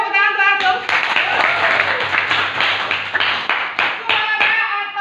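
Schoolchildren clap together in a lower-secondary science classroom lesson on the sense of hearing, with dense, steady applause filling most of the moment and a few voices talking at the start and end.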